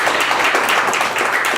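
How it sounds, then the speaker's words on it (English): Audience at a MobileMonday Silicon Valley tech meetup applauding, a dense, even patter of many hands clapping close by, filling the short stretch without pause. "Please give them a round of applause."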